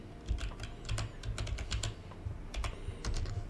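Keys clicking on a computer keyboard as a short name is typed into a field in Unreal Engine 5, a quick irregular run of close taps with no voice.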